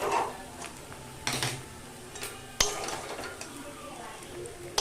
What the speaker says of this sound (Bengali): এটাকে আমি ঢাকা দিয়ে দিয়ে পরপর ভেজে নিচ্ছি